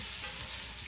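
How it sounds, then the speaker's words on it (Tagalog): Onion and garlic sautéing in hot oil in a pan, a steady close sizzle and crackle with faint stirring underneath, continuous for the full second with no voices. "Igisa yung ating onion and garlic"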